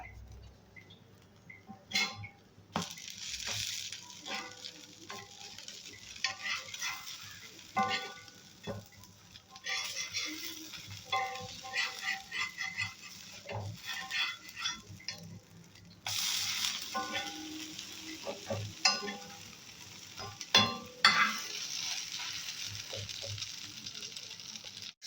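Wheat bread toasts in a pan with soft, continuous sizzling and occasional scraping stirs, moderately quiet and alone without talk.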